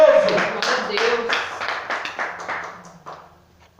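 A church congregation claps in a fast rhythm, sharp hand claps repeating close by and gradually fading out, with voices heard faintly beneath.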